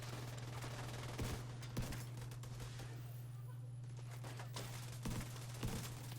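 Shotgun blasts in The Division video game, four sharp loud reports in two pairs over a steady low hum and busy game noise.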